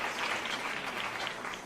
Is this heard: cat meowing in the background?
no